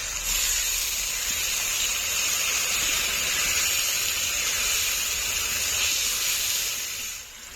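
Water used to rinse ground ginger, cumin and dried chilli paste is poured into a hot pan of frying onion and tomato for a village-style fish curry, giving a loud, continuous steamy hiss and sizzle that fades slightly at the end.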